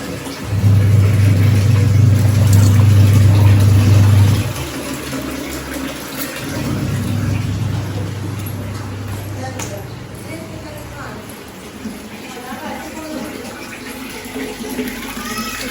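Tap water running into a bucket on a farm, a loud steady gush for about four seconds, then a softer continuing flow with a fuller, lower tone as the bucket fills.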